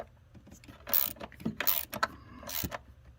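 Ratchet wrench snugging the throttle position sensor bolts on a 2004-2008 Ford F-150, a few quick mechanical clicks and turns in separate bursts, close and fairly quiet.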